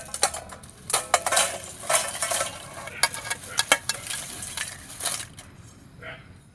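Homemade crispy potato chips are tipped into a bowl, a dry rattling clatter of pieces sliding and tumbling in bursts before it trails off near the end.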